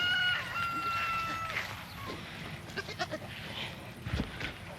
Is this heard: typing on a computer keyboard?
no